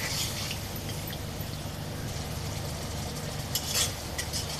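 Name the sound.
spice paste being sautéed with a little water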